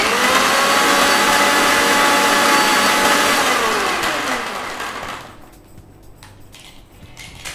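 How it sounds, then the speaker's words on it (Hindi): An electric blender mixes chilled milk into ghewar batter, a loud, steady motor whirr that runs for about five seconds, then cuts out and leaves quieter room noise. "वापस ब्लेंड करेंगे।"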